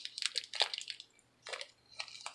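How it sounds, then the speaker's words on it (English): Wet, squishy chewing of a peanut butter snack close to the microphone, in short bursts separated by brief pauses, fairly quiet. "Okay, I'm chewing."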